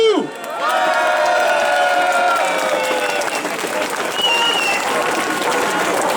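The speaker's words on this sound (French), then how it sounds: "Applaudissons-nous." A yellow vest protest crowd in France applauds itself outdoors, with loud, continuous clapping, cheers and whoops, and some voices rising above the clapping.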